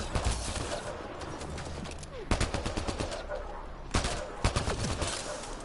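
Rapid bursts of video-game gunfire from Mass Effect story mode, clustered volleys with sharp loud cracks near 2.3, 4 and 4.5 seconds over a busy, continuous battle din.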